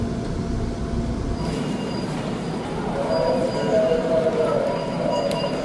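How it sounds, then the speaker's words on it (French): A Seoul metro subway train carries evening commuters, its steady rumbling roar filling the carriage, with a thin metallic wheel squeal rising partway through and no talk. "Le métro coréen. À l'heure d'après le travail."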